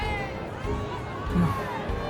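A crowd gathering in the video game Honkai: Star Rail, a steady murmur of indistinct chatter and background bustle with faint musical tones, moderately loud throughout.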